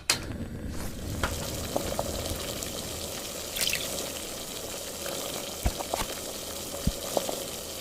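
Egg frying in a pan in a Lego stop-motion forest cooking scene, a steady hissing sizzle with faint crackles and a few sharp ticks scattered throughout, continuous and moderately quiet.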